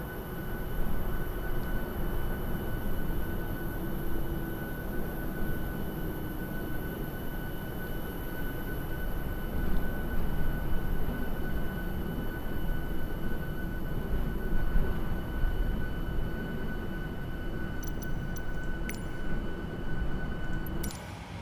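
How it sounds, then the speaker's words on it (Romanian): Auxiliary power unit of a Boeing 737F cargo jet in Microsoft Flight Simulator 2022, a steady, unbroken drone with a constant whine on top, running alone for the whole stretch. "Încă cred că funcționează auxiliar power unit-ul și cred că de-aia îl ține un pic în viață."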